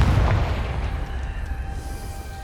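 The Confringo blasting spell in a Harry Potter video game makes a heavy booming explosion at the start, followed by a decaying rumble with faint magical tones trailing off.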